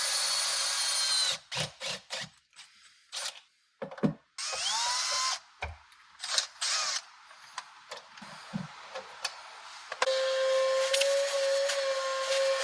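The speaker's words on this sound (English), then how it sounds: "When you put that in your drill and tighten it, smashes that down." A power drill driving a rivet nut tool into a C5 car's handbrake reinforcement plate whirs in short repeated bursts with pauses between, mechanical clicking and ratcheting in the gaps, then a longer steady high-pitched spin near the end.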